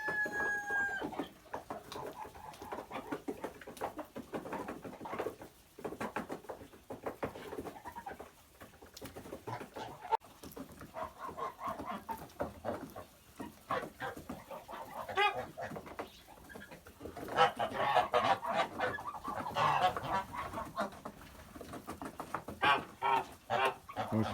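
Chickens cluck and murmur continuously over a long stretch, with a rooster crowing now and then and other birds cooing nearby, and no voices.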